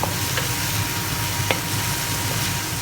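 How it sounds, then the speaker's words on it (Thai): White onions stir-fried in a pan for chicken curry puffs give a steady, close sizzle with faint stirring scrapes throughout, with no talking. "เมื่อเราผัดหอมนะคะ พอสมควรแล้วนะคะหอมนิ่มนิดนึง"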